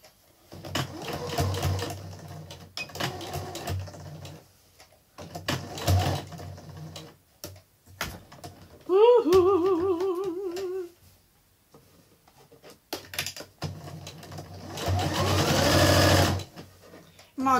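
Sewing machine stitching along the side of a folded recycled towel, running in several separate bursts of steady whirring, with a short higher-pitched mechanical whine in the middle.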